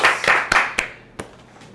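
In a studio setting, a small handful of sharp, distinct claps ring out close by, spaced irregularly and fading to quiet between hits.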